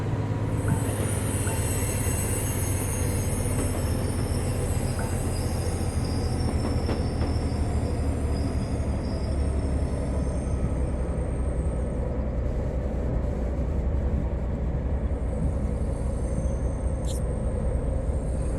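Video game train: steady loud rumble of a train rolling on rails, with high metallic wheel squeals drifting above the continuous roar throughout.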